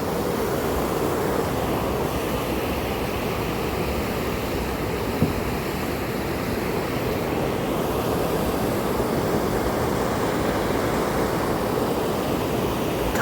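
Steady roar of rushing water from a mountain stream and falls cutting through a narrow rock gorge, a dense continuous wash with no pauses that holds even in level throughout, with no voices.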